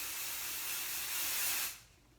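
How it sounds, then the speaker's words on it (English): A steady, close hiss of hair product sprayed onto sectioned hair, one continuous burst lasting nearly two seconds before cutting off. "I section my hair and then I spray."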